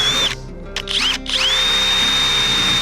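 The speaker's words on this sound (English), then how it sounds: "I'm just gonna drill a pilot hole using an 1/8 inch drill bit" A power drill with a 1/8 inch bit runs at a high whine while boring a pilot hole through the painted front fender of a Toyota 4Runner for a snorkel install. The sound is close and loud, with a couple of brief stops and restarts before one long steady run.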